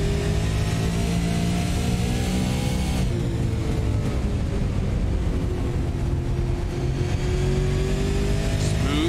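Race car engine in an esports racing sim, a loud continuous drone with pitch climbing steadily through gear changes, shifting down sharply about a third of the way in and then rising again.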